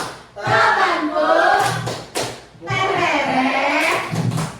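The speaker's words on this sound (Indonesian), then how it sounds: "Kasih tepuk hebat dulu teman kita" Schoolchildren at an Indonesian primary school perform the 'tepuk hebat' clapping cheer, chanting together in rhythm with a few sharp claps between two loud bursts of group voices.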